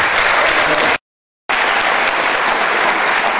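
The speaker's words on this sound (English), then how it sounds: "Let's give her a big round of applause." An audience at a congressional debate closing applauds loudly and steadily, the clapping broken by a brief cut in the middle.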